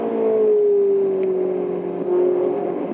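A Ferrari race car engine at the Spa circuit during the Spa Classic 2012 holds a loud, steady drone from onboard, its pitch sagging slightly and then lifting again over three seconds.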